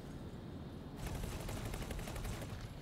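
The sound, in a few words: player ship's guns firing in X4 Foundations video game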